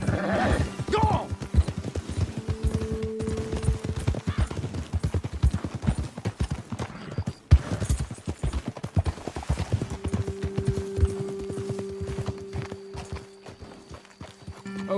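Horses' hooves clop in a rapid, irregular rhythm on a trail in the video game Red Dead Redemption 2, close and fairly loud, slowing near the end, with a steady hum entering partway through.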